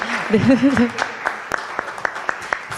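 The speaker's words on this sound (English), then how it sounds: "give applause for all of the panel discussions" Audience applause for the panel discussions at an ERIA forum on disability and innovation in ASEAN, a short burst of clapping over a speaking voice that thins into scattered individual claps.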